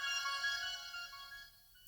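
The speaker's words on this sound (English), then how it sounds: "bird song," Instagram's bird song notification tone plays as a faint two-second electronic chirping chime whose bright tonal layers gradually fade, heard alone without any talk.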